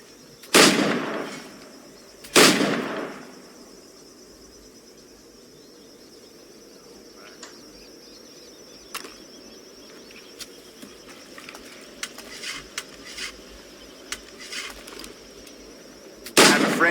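Firearm shots in the pirate-era game Assassin's Creed IV Black Flag: two sharp blasts close together near the start and another at the end, separated by a quiet ambient stretch with chirping insects and small scattered clicks.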